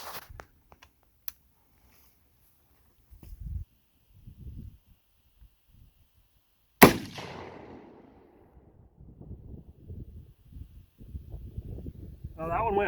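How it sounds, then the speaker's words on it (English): A sporterized .303 British Lee Enfield No. 4 Mk 1 rifle fires a single loud, sharp shot with a ringing tail that fades out. Faint handling noises come before it, and quieter rustling follows. "Now I got to work on squeezing my trigger a little more."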